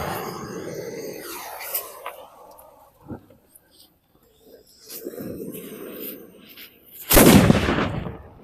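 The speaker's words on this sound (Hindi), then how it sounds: "चलिए पहले हम लोग इस ऑटम बम हाइड्रो पटाखे में फटाफट आग लगाते हैं।" An atom bomb hydro firecracker goes off during nighttime Diwali firecracker testing. Voices murmur and rustling comes first, then one loud, sharp blast cracks out near the end and fades quickly.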